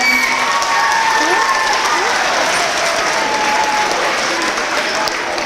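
Parents and students applaud at a school academic awards event, loud continuous clapping filling the room with a few faint cheers mixed in.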